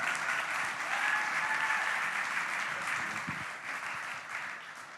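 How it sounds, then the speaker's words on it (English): Audience on a startup conference main stage applauding sustainability award winners, a dense, even, sustained round of clapping that holds steady for several seconds without talk. "So a big round of applause for Iron Road and Porsche."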